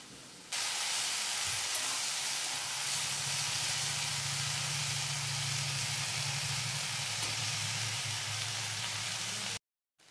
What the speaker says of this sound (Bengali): এইভাবে আমি কয়েক সেকেন্ড একটু শাকটা কড়াইয়ের মধ্যে নেড়ে নিচ্ছি।